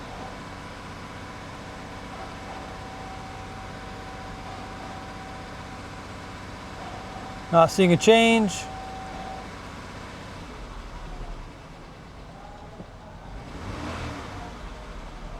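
A Jeep with a bogging-down idle problem revved to about 2,000 RPM, a steady engine drone with a brief rise, followed by a quieter stretch and a muffled surge, under a short spoken remark.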